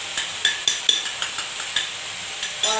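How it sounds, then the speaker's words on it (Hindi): Ground onion fries in hot oil under a low sizzle, broken by a series of sharp, close clicks and scrapes from a utensil stirring the pan. "ऑनियन को हम फ्राई करेंगे ताकि ये कच्ची ना रह जाए"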